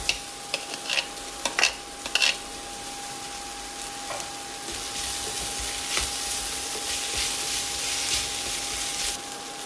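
Boiled potatoes are stirred into sautéed onions in a frying pan: a few sharp scraping clacks at first, then a steady, moderately quiet sizzle that continues alone.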